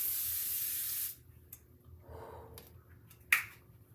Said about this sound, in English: This is the Evian facial spray, or Evian facial spray.